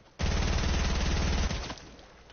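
Compact SMG gunfire in Fortnite: one sustained rapid automatic burst of about 1.3 seconds, loud and close, then a fading tail, with no voices.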